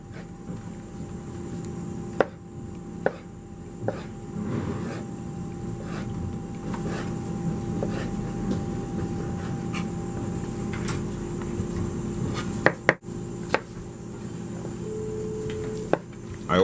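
A knife slices celery on a bias against a cutting board in a knife class. Sparse, sharp cuts land every second or so, then a few more later, over a steady room hum.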